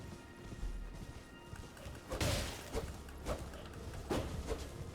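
Hoofbeats of a galloping horse in the video game Elden Ring, a few rhythmic thuds spaced under a quiet ambient background, fairly faint with no talking.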